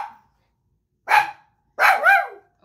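A dog in a backyard barks close and loud: one short bark, then a doubled bark, separated by silence.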